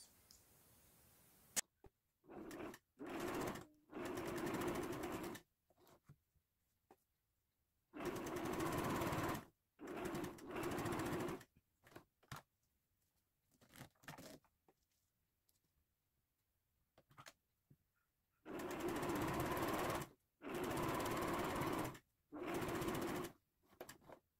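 A sewing machine stitches fabric along the edge of a zipper pocket on a pouch, running in several bursts of rapid, even whirring clatter, close and loud, separated by quiet pauses.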